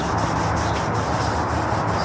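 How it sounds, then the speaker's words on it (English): A Scotch-Brite pad with a little dish soap scrubs mold off a part of a 1975 Yamaha 175 barn-find motorcycle, a loud, close, continuous rasping rub without pause. "just Scotch-Brite and a little bit of dish soap. And rub it down"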